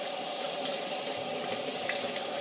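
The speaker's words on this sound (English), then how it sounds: "And I'll just rinse my hands off" Hands are rinsed under a running kitchen tap, a loud, steady hiss of water splashing close by and continuing without pause.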